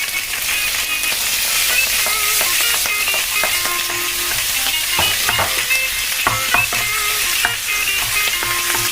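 Butter melts and sizzles in a hot pan, a loud, dense, continuous frying hiss close by, broken by scattered clicks and scrapes of stirring.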